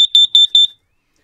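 Test alarm on an RV propane and carbon monoxide detector, sounding as four sharp, loud, high-pitched electronic beeps in a quick even rhythm, close by, then silence.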